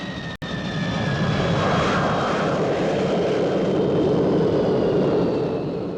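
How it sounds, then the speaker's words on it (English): A fixed-wing aircraft aborting its landing roars at full throttle in a loud, sustained engine drone with steady whining tones, close and continuous after a brief dropout at the start. "Abort landing. Full throttle."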